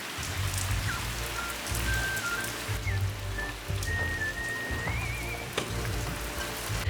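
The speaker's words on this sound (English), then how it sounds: "It's raining." Steady rain pattering on a surface nearby, a dense continuous hiss of drops with a faint high whistle-like tone drifting in the background.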